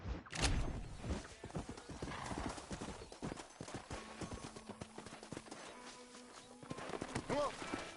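Horses in the Red Dead Redemption video game clip-clop along steadily and let out a neigh, while a character's voice talks over the hoofbeats.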